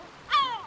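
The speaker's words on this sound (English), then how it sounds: "I'm assuming that's a bird because I heard some squawking." A white-bellied cormorant in the video game Disco Elysium gives a single short, harsh, crow-like squawk over quiet background ambience.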